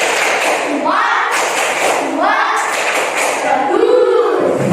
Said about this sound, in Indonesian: Beri tepuk jempol untuk semuanya